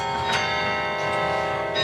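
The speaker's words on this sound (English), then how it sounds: "the clapper is pulled against the bell, making the bell ring. This carillon has 51 bells." Carillon of 51 bells spanning four octaves, struck by clappers pulled against the bells, rings with sustained overlapping metallic tones and a few fresh strikes, loud and close with no voices.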